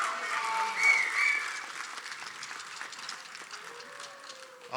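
An audience applauds a group at a college signing day event, with clapping and crowd noise that is loudest early and then fades to a softer patter, plus brief voices and a squeal of tones.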